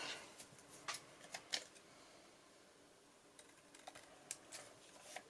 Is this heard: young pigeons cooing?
no